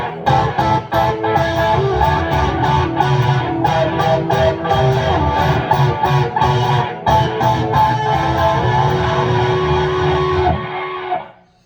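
A distorted electric guitar plays a fast, busy riff for about eleven seconds, loud and continuous, ending abruptly.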